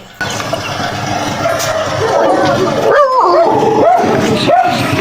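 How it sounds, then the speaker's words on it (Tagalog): A dog barks and yelps several times amid a busy background with people talking nearby, the barks sharp and fairly close. "May aso pa"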